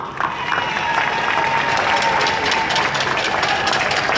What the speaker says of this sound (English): Prime Minister, A round of applause to you.